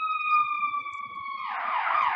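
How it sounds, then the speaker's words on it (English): A steady electronic siren wail sounds loud and close on a city street, then breaks into a harsher, rapidly warbling yelp in its final second. "Excuse the siren."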